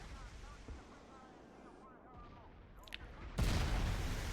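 Artillery and gunfire in a 1945 Iwo Jima invasion battle video game: distant thuds and scattered shots, then a loud, dense burst of fire near the end, under someone talking.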